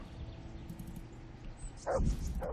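A dog barks in Kingdom Come: Deliverance, with a short burst of yips near the end over a low, steady game ambience.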